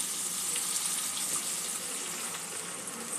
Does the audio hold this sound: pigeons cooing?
no